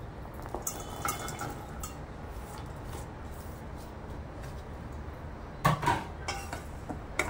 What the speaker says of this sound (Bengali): আদা গুঁড়ো একটু ভালো করে নেড়ে চেড়ে দেবেন।